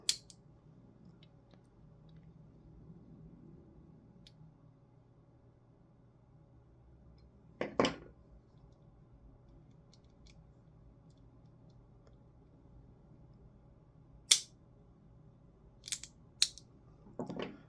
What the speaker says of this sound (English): So we can cock the trigger box, and then we can adjust this sear.